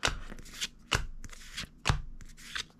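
Pokemon trading cards from Shrouded Fable packs are handled and flicked through, giving a few sharp riffling and slapping bursts of card against card with softer shuffling between them, close by and with no speech.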